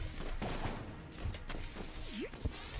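Rapid bursts of video-game gunfire from Enter the Gungeon, with repeated quick shots and impacts at a fairly low, steady level and no talking.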